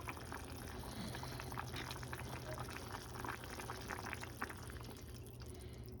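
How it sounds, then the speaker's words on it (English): Ham and potato soup coming back to a boil in a pot, a quiet, steady bubbling hiss with faint gurgles throughout, and no voices. "Bring this back to a boil."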